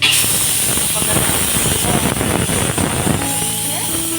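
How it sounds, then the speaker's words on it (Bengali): A pressure cooker with lentils boiling inside gives off a loud, continuous steam hiss that stays close and steady throughout. Faint voices and household sounds sit underneath it. "মুসুরির ডাল প্রেসারে সেদ্ধ করতে দিয়েছে"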